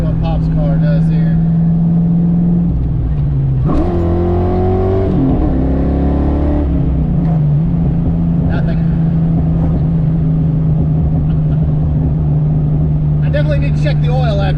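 Pop's car revs hard on a full-throttle pull, a loud engine note climbing in pitch, shifting, then settling into a steady drone, with a voice speaking briefly.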